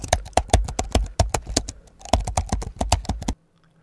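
Typewriter typing: a quick, steady run of crisp key strikes, close and dry, that stops suddenly and leaves a faint low hum.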